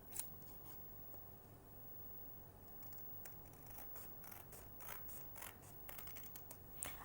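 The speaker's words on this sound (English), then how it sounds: "I'll use a pair of scissors to cut along this line" Faint, quiet snips of a pair of scissors cutting along a marked line on a paper triangle, a series of soft, irregular crisp clicks over a low background hiss, with no talking.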